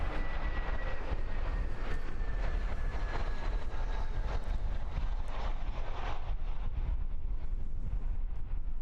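A Jetstar airliner moves past at Christchurch Airport on a windy evening, its engines a steady loud roar mixed with heavy wind buffeting the microphone and a faint whining tone drifting through.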